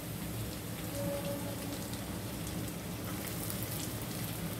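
Capsicum added to ginger-garlic frying in a pan gives a soft, steady, hissing sizzle at low level, continuous throughout with no voices, for chicken triple fried rice.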